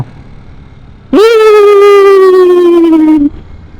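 A motorcycle passes close by on a road near Santo Tomas, Batangas, its loud exhaust swelling into a strong droning tone that slides slowly downward in pitch for about two seconds before cutting away.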